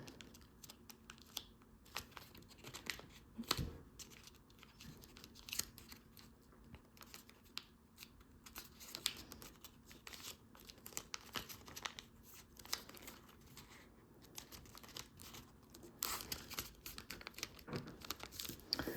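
Paper being creased and folded into an origami futuristic jet, with many close crinkles, sharp creasing snaps and soft rustles in an irregular run, quiet and without speech.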